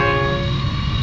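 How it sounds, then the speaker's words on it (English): A morning freight train passing in the outback near Port Augusta sounds its horn loud and close, a sustained harmonic blast over the low rumble of rolling wagons, with no voices. "And here comes the first morning train."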